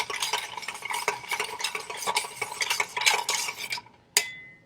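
Bar spoon stirring ice in an insulated metal shaker tin, a rapid rattling clink of cubes in a steady swirl that stops, followed by a single bright metallic ring.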